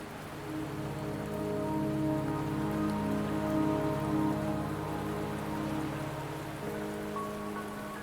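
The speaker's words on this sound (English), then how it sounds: "the rain won't last much longer" Steady rain falls in the video game Wuthering Waves, a dense, even patter holding at moderate loudness throughout, layered over a sustained tonal music bed with no voices.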